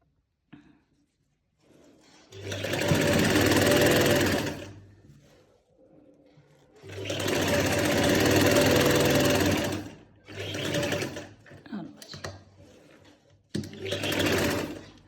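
A sewing machine stitches a pocket onto palazzo pants in several separate bursts of rapid, whirring running, close and fairly loud, with quiet pauses between runs.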